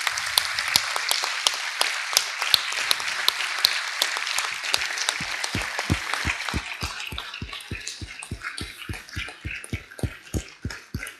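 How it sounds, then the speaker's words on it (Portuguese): An audience claps at the closing conference of a literary festival in Madeira, dense applause that thins over several seconds into slow, rhythmic single claps from a few people. "acho que merece uma salva de palmas"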